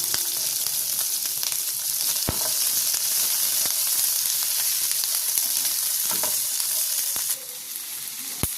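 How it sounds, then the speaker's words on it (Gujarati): Ajwain seeds and chopped green chillies fry in hot oil in a pan, a loud continuous sizzle and crackle close up, broken by occasional clinks of a stirring spoon, easing slightly near the end. "તો હવે તેમાં આપણે અજમો ઉમેરીશું અને કટ કરેલા મરચાં ઉમેરી દઈશું."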